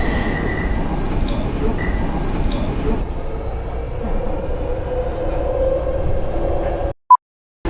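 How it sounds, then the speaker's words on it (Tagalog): A metro train at Taipei's Chiang Kai-shek Memorial Hall station platform 4 rumbles steadily for several seconds. A brief tonal whine rises over the noise before the sound cuts out abruptly. "Ito na yung train."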